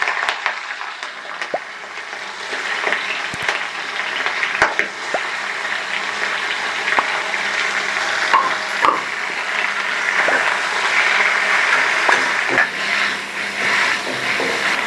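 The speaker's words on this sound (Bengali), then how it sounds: "তেল গরম হয়ে গেছে, এবার এরই মধ্যে চিংড়ি মাছটাকে দিয়ে দিচ্ছি।" Prawns frying in a wok in a small amount of hot oil, roughly 15–20 grams, making a steady broad sizzle with scattered pops and crackles that runs close and continuous throughout, with no talking.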